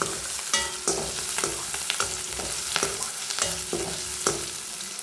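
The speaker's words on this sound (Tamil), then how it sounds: "பொன்னிறம் வெங்காயத்தை நல்லா வதக்கிக்கலாம்." Onions frying in a pan with crushed garlic and curry leaves, a steady close sizzle broken by regular scraping stirs of a spoon, about one every half second.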